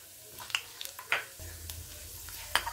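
Mustard seeds and coconut pieces fry in hot coconut oil for a country-style chicken curry: a quiet, low sizzle with scattered sharp pops and light clicks of the pan.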